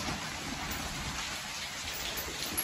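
Heavy rain pouring outdoors at a rural buffalo shed, a dense continuous hiss of drops striking surfaces, steady and fairly loud with no talk.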